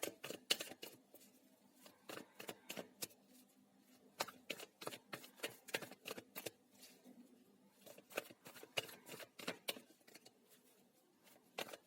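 Tarot cards are shuffled by hand in quick bursts of crisp riffling and slapping, close and quiet with brief pauses between runs.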